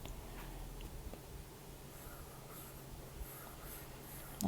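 A pen scratches and rubs across paper while colouring in, quiet and close, with soft continuous strokes and a brief louder bump at the very end.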